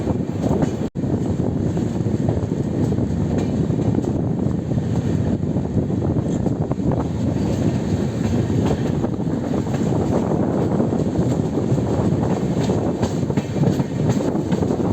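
The 13181 Kolkata–Silghat Town Kaziranga Express runs through Kishanganj junction in Bihar at evening without stopping, a steady, loud, wind-buffeted rumble of the moving train filling the whole stretch with no break.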